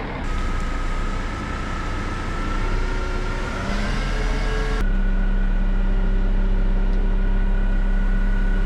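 A crane lifts bulk bags of soil toward a back yard, its engine running in a constant loud drone with whining hydraulic tones that shift pitch partway through.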